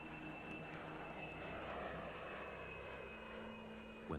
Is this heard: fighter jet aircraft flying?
yes